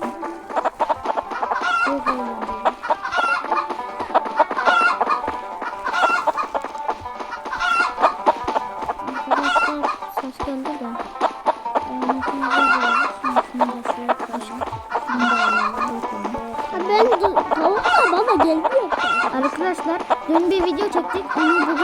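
Chickens cluck and squawk almost continuously in the video game Party Panic, with a rooster crow now and then, a busy, looping barnyard chorus heard alongside talk.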